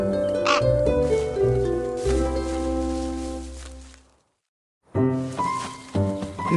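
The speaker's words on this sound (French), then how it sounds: "Maître Corbeau, sur un arbre perché, tenait en son bec un fromage" A crow caws in a short run of harsh calls set against tonal musical backing, followed by a brief silence, then another burst of calls.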